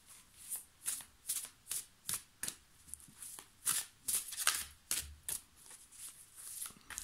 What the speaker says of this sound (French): Je vais encore vous tirer une carte de l'oracle de la vision